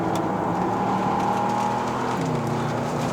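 A 2019 Bentley Continental GT V8 with all-wheel drive accelerating on a mountain road, a steady loud engine drone rising slightly in pitch, heard from inside the cabin with no talking.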